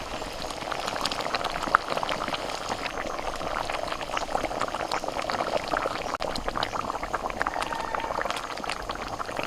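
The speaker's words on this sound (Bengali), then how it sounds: "মশলাটা ফুটতে শুরু করেছে, এখন আমি ভাজা মাছগুলো দিয়ে দিচ্ছি।" Spice gravy bubbles at a steady boil in a pan as fried pomfret fish pieces are added, giving a dense, close, continuous burbling with small pops and no talk.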